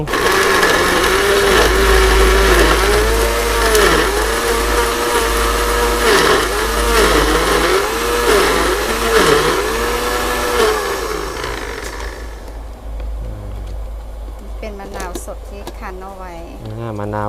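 An electric mortar grinding shrimp paste, chili, garlic and sugar makes a loud, steady motor whir under ongoing talk, then winds down near the end while voices continue.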